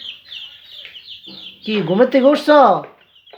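Tiger breed chickens cluck close by in a short series of throaty, rising calls, with soft higher peeps before them and a person speaking briefly.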